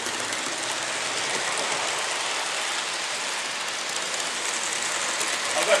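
A train runs in a video game with a steady broadband rumble and rolling noise. It holds at an even loudness throughout with no talk over it.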